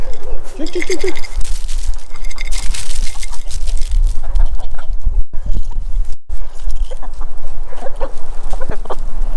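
Hens and roosters clucking on a farm, with several short calls near the start and scattered clucks over steady outdoor background noise.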